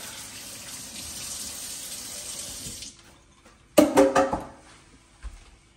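Tap water runs steadily under a kitchen sink for about three seconds while hands are scrubbed with soap, then stops, followed by a few short splashing rinses and a faint clatter.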